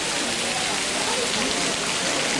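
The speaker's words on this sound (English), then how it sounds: "nothing deters the crowds, even rain like this." Heavy rain pours steadily onto surfaces at a crowded Buddha site, a dense, unbroken hiss with no letup, close and loud throughout.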